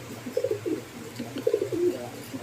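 Racing pigeons coo softly in a loft, a few low burbling calls in two short bursts, fairly close and alone.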